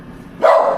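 A single short, loud bark from a dog named Rasha, close by in a home kitchen, rising sharply out of quiet room tone.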